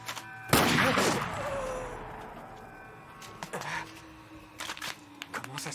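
A single sharp rifle shot cracks out in an anime fight scene, loud and close, followed by a long fading echo and a few faint clicks and rustles afterward.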